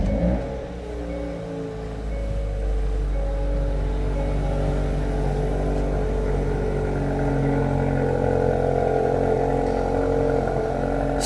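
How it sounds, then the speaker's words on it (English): Hyundai i30N engine cold start: a steady, loud idle roar with a low rumble that swells in volume partway through, running continuously without talk. "But here's the cold start."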